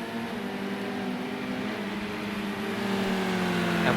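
Touring cars racing at Brands Hatch GP in Project Cars 2, a steady droning engine roar from several cars that holds at racing speed and grows slightly louder near the end.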